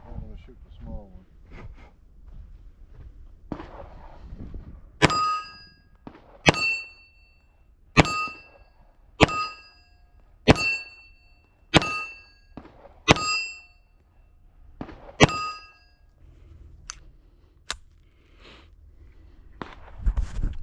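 An AutoOrdnance 1911A1 pistol fires about ten spaced shots, each one followed by a bright metallic ring from a small steel target. Quieter handling sounds fill the gaps, and a voice is heard faintly at the start.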